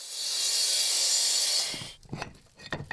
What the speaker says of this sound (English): The bricks are cut using a chop saw with a diamond tip blade.